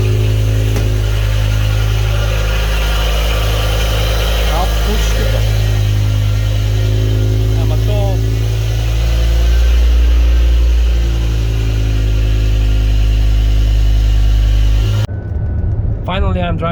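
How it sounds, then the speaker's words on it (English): A BMW E60 M5 with the S85 V10, suffering rod bearing and transmission problems, drones loudly from inside while driving, a steady deep engine rumble with shifting revs that cuts off abruptly near the end. "Finally, I'm driving the car."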